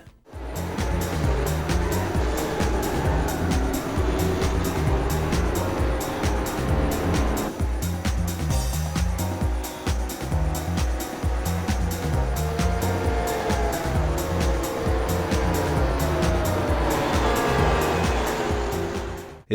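Engines of racing cars roar continuously in a Dreamcast racing video game, with up to 24 cars on track, forming a loud, sustained drone that persists for the whole stretch without any talk.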